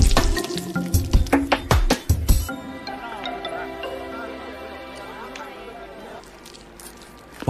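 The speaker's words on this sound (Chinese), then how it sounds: "在烈火的炙烤下， 肥肉、瘦肉的油脂相互渗透，又融为一体， 翻转间滋滋冒泡" Lamb skewers of fat and lean leg meat sizzle over a fierce fire, with loud crackling pops for the first couple of seconds, then a softer steady fizz under a sustained tonal background.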